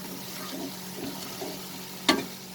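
A pan of ground spices, including coriander and Kashmiri red chilli powder, sizzles and crackles steadily with light stirring sounds, then a sharp brief hiss near the end as a spoon of water is added.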